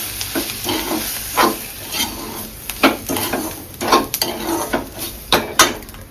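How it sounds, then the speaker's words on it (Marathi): Roasted semolina (rava) is sautéed with cooked onions in a pan, the close, steady sizzle punctuated by repeated scraping and tapping strokes of a spoon against the pan. "आता मी हे रवा भाजून घेतलेला तो सुद्धा टाकून घेते आज आणि तो व्यवस्थित परतून घ्यायचा"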